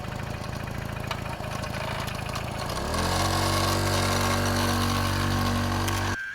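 A Piaggio Ciao moped engine idles close by with a steady buzzing putter, then settles into a fuller, louder idle after a few seconds before cutting off abruptly near the end.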